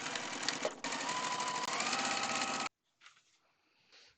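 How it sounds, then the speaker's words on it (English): A sewing machine stitches a quarter-inch quilt seam with back tacking, a loud, steady motor whir running close for over two seconds, then stopping, followed by a few faint handling noises. "now I'm going to sew a 1/4 inch seam, back tacking at the beginning and the end"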